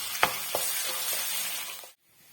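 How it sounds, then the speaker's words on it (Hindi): Ginger garlic paste fries in a pan, a soft steady sizzle with a couple of sharp stirring clicks, then it cuts off abruptly near the end. "लहसुन अदरक को आप थोड़ा सा फ्राई कर लें और अच्छा सा गोल्डन ब्राउन सा इसमें शेड आने तक हम इसको फ्राई कर लेंगे।"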